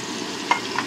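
Stuffed pointed gourd (potol), filled with fish and potato, sizzles steadily in a frying pan as it is turned, with a couple of light utensil clicks over the hiss.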